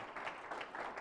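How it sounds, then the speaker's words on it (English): Audience applause for a speaker at a research talk on drought cycles, a dense patter of many hands clapping steadily and fairly faint in a hall, heard alone for about a second. "let's give a warm round of applause for Simon"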